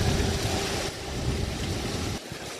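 A whale-watching boat's engine idles on the water off Maine, a steady low rumble with broadband wash and wind noise, continuous and close, no talk.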